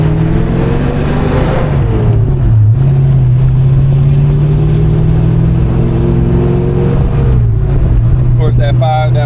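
A 1987 Ford Mustang 5.0 V8 rumbles loudly and steadily with the top down, shifting pitch as it revs up and eases off, then a voice cuts in near the end.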